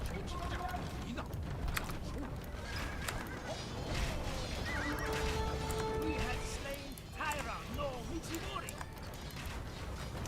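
Cavalry horses in a strategy video game neigh repeatedly over the steady clip-clop of hooves, forming a busy, dense layer of battle sound beneath people talking.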